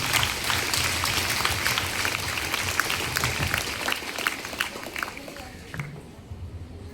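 Applause from a girls' school audience welcoming a student debate speaker, a dense clatter of many hands that continues for several seconds before tapering off, with faint crowd noise and shuffling underneath.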